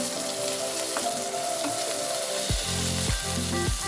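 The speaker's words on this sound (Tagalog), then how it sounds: "Then, maglalagay tayo ng 2 pirasong sugpo." Two shrimp frying in a pan while making pancit canton: steady loud sizzle with crackling oil, plus clattering knocks of the pan or utensil in the final seconds.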